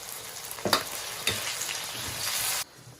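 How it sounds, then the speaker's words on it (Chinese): Broad bean paste and soybean paste stir-fried in oil for sauce-braised beef bones, a steady close sizzle with sharp spatula scrapes and clacks at intervals, the hiss swelling then dropping off abruptly near the end. "一勺豆瓣酱，炒出红油"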